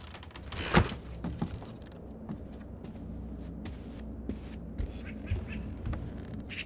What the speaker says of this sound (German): Jetzt kräht er natürlich.